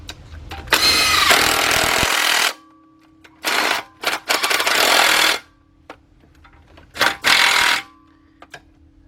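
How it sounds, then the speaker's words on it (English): A socket on a power tool drives three oil pan bolts on a 2005 Cadillac CTS 3.6 with a knocking engine, heard as several loud, rattling bursts of a few seconds each, separated by short quiet gaps. "Shallow socket, and we're going to bring those 3 bolts in."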